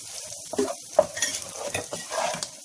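Homemade kokoreç frying in its own fat in a pan, with soft sizzling and scraping stirs of a utensil, a few sharper clinks, close and steady with no voices.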